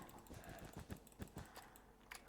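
A computer mouse clicks close up during Minecraft play on a PC. Quick, light taps come in an uneven rhythm, with short bursts and pauses.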